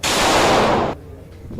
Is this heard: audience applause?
no